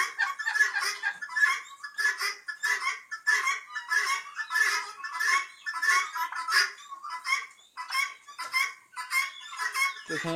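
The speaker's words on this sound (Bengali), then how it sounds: "এখানে টার্কি, টার্কি, এই পাশে হচ্ছে তিতির" Turkeys and guinea fowl on a farm at night call nonstop in a dense, rhythmic chorus of harsh, repeated cackles and gobbling bursts, close and fairly loud, with no speech.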